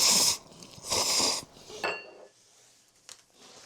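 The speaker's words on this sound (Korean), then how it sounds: "원래 이렇게 설거지는 바로바로 하는 편이세요?" Dishes being washed at a kitchen sink: running water splashes in bursts, followed by a few light clinks of pots and cutlery, close and alone.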